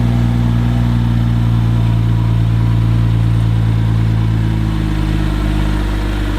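A BMW M2 idles steadily close by, a low, even engine rumble with a smooth drone that holds for several seconds and eases slightly toward the end as the car creeps.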